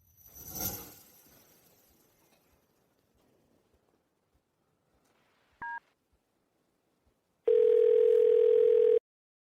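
Telephone ringback tone while a call waits to be answered: after a short noisy burst and a quiet stretch, a brief beep sounds, followed by a longer steady electronic tone, clear and close.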